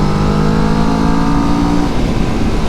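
A 2019 Kawasaki Vulcan S motorcycle accelerating in fourth gear, a loud, close, steady engine drone with a rising pitch that holds for the whole stretch, no talking.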